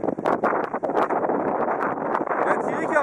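Strong wintry wind buffets the microphone on open ground in Lozère, a loud continuous roar with gusty surges, while a person speaks over it.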